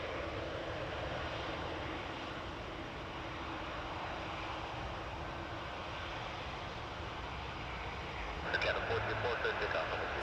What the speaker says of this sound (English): Dreamliner Air Canada 424 to Montreal.